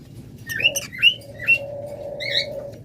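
A pair of yellow Fischer's lovebirds give four shrill, squeaky chirps, with a lower, steady whistle-like tone underneath, close by over faint background noise.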